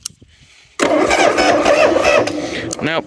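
An old Harley-Davidson Shovelhead motorcycle cranks loudly and catches briefly with a rough, sustained engine rumble after a quiet start, while someone speaks a word near the end.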